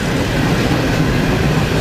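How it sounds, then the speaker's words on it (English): An empty Norfolk Southern unit coal train rolls along the rails of the Clinch Valley District, a steady, loud broadband rumble of wagons passing close by with no break over the short stretch. "This empty unit coal train is utilizing the Clinch Valley District."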